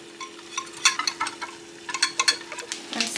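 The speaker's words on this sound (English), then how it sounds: "we're just gonna whisk it together" A whisk stirs apple cider vinegar dressing with salt and pepper in a bowl, giving quick irregular clicks and scrapes close up over a faint steady hum.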